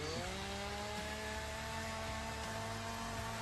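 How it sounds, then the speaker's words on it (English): A chainsaw sound in a wrestling entrance theme, a loud steady buzzing whine with a held rising tone, dense and continuous throughout. "It's chainsaw right here."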